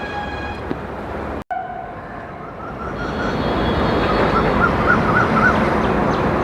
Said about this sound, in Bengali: একশো ঘন্টা পরে প্রথম লোকাল ট্রেন এলো বত্রিশ হাজার দুশো সতেরো ডানকুনি লোকাল